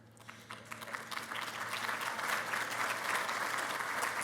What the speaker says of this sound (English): That is definitely applause-worthy.